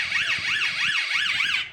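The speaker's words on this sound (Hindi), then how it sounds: "अगर कोई अकेली महिला किसी तरह के खतरे की आहट महसूस करती है तो वो अपने पर्स में छुपा हुआ छोटा सा बटन दबा सकती है, जिससे पुलिस सायरन की आवाज निकलेगी।" A police-style siren from a women's safety purse, triggered by a hidden button, wails in a steady rising-and-falling pattern of about five even cycles, loud and close with nothing else heard.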